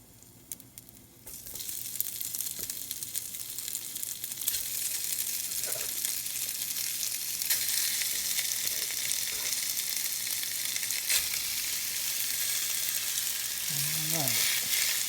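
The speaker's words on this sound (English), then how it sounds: "let's brown down these little beef strips" Strips of beef browning in a hot skillet for stroganoff give a steady, moderate frying sizzle that rises after the first second and holds, with a few faint clinks near the end.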